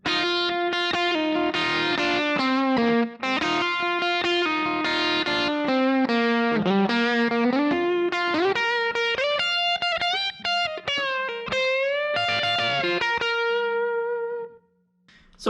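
Guitar solo from a country song, a busy run of bent, sliding lead notes with overdrive over about fifteen seconds, loud and continuous before fading at the end.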